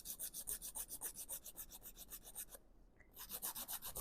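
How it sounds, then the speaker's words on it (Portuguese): A nail file rasps back and forth across the tip of a fiberglass nail in quick, even strokes, a close, faint scratching that pauses briefly before resuming. "E vamos lixar bem retinha a ponta dessa unha."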